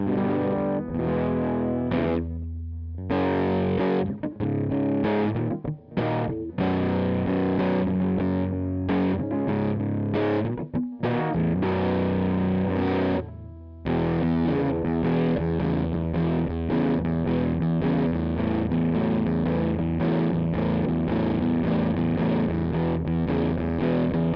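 Bright, jangly electric guitar with treble turned up, a 1975 Avon Rose Morris Les Paul Junior copy, playing continuously with a sharp treble edge, strummed chords and runs with a couple of brief breaks, no voices.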